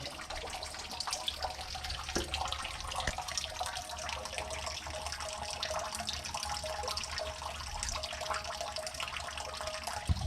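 Water from a stream on a countryside hike near Chenay in the Marne flows steadily, a continuous close splashing trickle with no voices.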